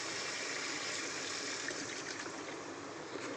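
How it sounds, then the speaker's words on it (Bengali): Water pours steadily into a pan of fish curry with fried potatoes, a continuous hissing splash that stays even and fairly loud throughout with no talking. "আমি এবার জলটা দিয়ে দেবো পরিমাণ মতন।"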